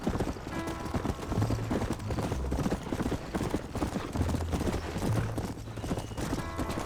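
Steady rhythmic clip-clop of horse hooves at a gallop in Red Dead Redemption, loud and continuous, with a brief low whinny-like tone mixed in.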